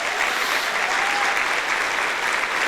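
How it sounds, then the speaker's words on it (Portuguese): A church audience gives a steady round of applause, dense and continuous from start to finish, with a faint voice briefly audible underneath. "Eu gostaria que você recebesse eles com uma salva de palmas."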